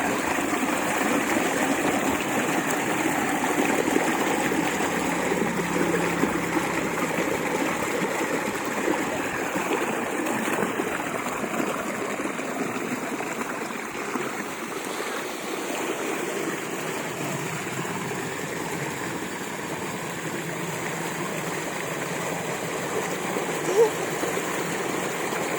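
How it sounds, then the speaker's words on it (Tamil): Water pouring from a pump outlet into a well tank on a farm, a continuous broadband rush that stays steady and fairly close throughout, with faint background voices. "இது கேணிக்குள்ளே வந்து தண்ணி வரும்."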